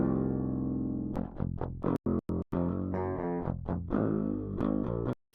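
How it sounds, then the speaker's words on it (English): Clean, dry electric guitar with a thin direct-input tone, unprocessed, a sustained chord then choppy muted strums and picked notes, with short silent gaps; rhythm guitar part for a Thall metal tone. "And then we have the two left and right rhythm guitars."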